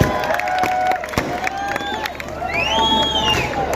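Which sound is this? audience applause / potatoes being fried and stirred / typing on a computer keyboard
audience applause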